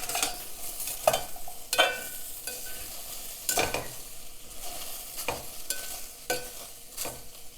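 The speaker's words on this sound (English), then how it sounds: "So just let it cook. Yeah, it's cooking." Okra for bhindi masala sizzles in a pan while it is stirred and scraped, the steady frying hiss broken by repeated louder stirring strokes at close range.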